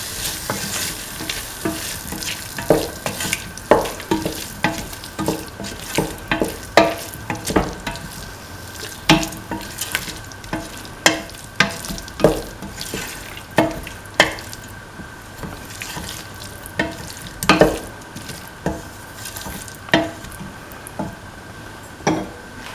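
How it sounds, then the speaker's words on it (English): A coconut milk rice mixture with mint and cottage cheese is stirred in a pan, a steady sizzle broken by repeated sharp scrapes and clicks of the spoon against the pan, close and irregular throughout. "Mix well."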